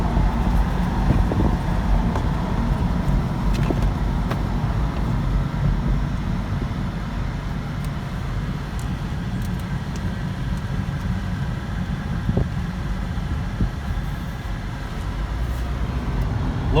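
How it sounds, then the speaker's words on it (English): A 2015 Audi A3 Convertible with a turbocharged 4-cylinder engine accelerates under a steady broad roar of road and wind noise heard from the cabin, the engine note rising gradually and continuously throughout. "There she goes. Yeah, I got a little bit of turbo lag with this 4-cylinder."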